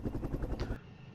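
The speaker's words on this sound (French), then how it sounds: "Les hélicoptères patrouillent." Helicopters patrol in the Cold War wargame Flashpoint Campaigns, a loud, steady rotor thumping with a pulsing beat that cuts off abruptly partway through, leaving only a faint hum.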